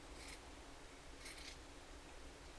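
Scissors trim a fabric seam allowance while sewing a Simplicity 1562 garment, giving two short, faint snips about a second apart over a steady low background hum.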